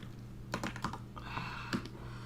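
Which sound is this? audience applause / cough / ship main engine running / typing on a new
typing on a new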